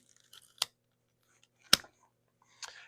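Stems of a banana plant being cut for grafting, giving three short, crisp snips spaced about a second apart, close and fairly quiet, with no talking.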